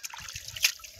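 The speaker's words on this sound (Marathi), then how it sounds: "पाणी टाकतो मित्रांनो" Water trickles and dribbles as it is poured near a crab's hiding spot under a rock, a faint, brief splash with a small sharper spatter midway.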